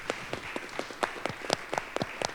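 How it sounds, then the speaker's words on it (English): Conference audience applauding panelists at a smart cities session, a sparse scattering of individual claps from a modest crowd, fairly faint and irregular throughout. "how about a round of applause for our distinguished panelists?"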